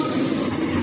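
A train at Thane station makes a steady, close, broadband rumble with no voices over it.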